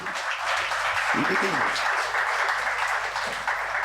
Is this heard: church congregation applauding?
yes